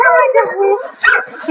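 Several dogs yip, whine and bark excitedly in short bursts, close by and fairly loud, mixed with a person talking.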